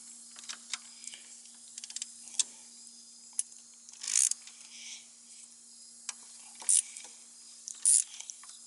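A 12 mm socket on a swivel and extension works the distributor bolts of a 2000 Nissan 3.3 engine, making scattered light ticks and several short bursts of ratchet clicking at close range, without speech.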